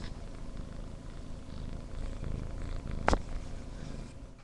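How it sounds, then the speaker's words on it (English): A cat purrs softly and continuously close by, a low rumbling drone with one brief sharp click partway through. "Hear me purr."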